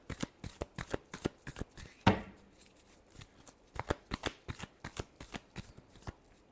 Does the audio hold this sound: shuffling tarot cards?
yes